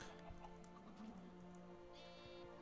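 Chicken clucking in the Minecraft video game, a few short game-style clucks over a busy background of other game sounds and music, fairly faint.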